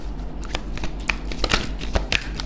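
Tarot cards drawn and shuffled from a deck, a brisk flurry of close papery flicks and slides with a few sharper snaps, loud and near.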